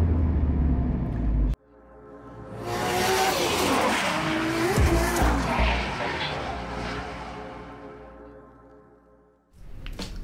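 A car engine revs and rolls closer into a garage, rising to a loud roar with a brief tire squeal, then fades as it settles to a stop.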